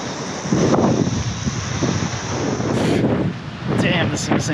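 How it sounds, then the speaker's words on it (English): Strong wind gusts across a beach at Camden Haven Inlet, Camden Head, with blowing sand: a loud, steady roar of wind buffeting the microphone that surges in several heavy bursts, with no other sounds standing out. "It's crazy windy."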